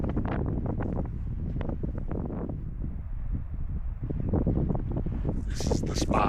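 Breezy wind on an outdoor hike, buffeting the microphone with a steady low rumble and fluctuating gusts throughout, with brief hissy rustles near the end.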